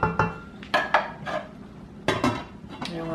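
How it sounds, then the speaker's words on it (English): Metal lid set onto a pot of boiling rice on the stove, several sharp clanks and rattles of metal on metal, close and loud, with no talking. "So now I'm gonna put the lid on it and let it finish cooking up."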